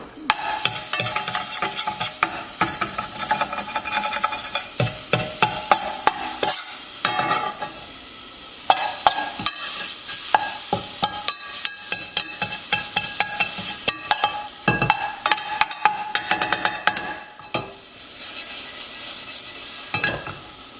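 Lamb and beef piperade with sweet peppers and baby leeks gets stirred in a hot pan, with dense, busy scraping and clattering over a constant sizzle that dips briefly near the end.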